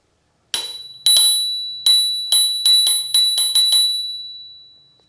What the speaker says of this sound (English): So the bell's over here.